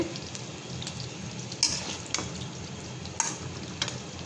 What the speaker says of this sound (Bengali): এই তো ভাজা হচ্ছে